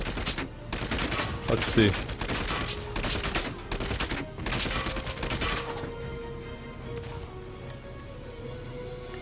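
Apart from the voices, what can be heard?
enemy gunfire in the video game Valkyria Chronicles 4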